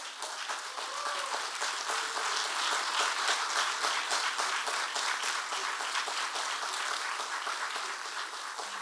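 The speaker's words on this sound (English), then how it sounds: "can we have one final round of applause for our UNA Hall of Fame class of 2021" A crowd at a college athletic Hall of Fame induction ceremony gives a sustained, dense round of applause, even and loud throughout, with no talking over it.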